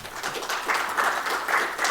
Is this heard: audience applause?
yes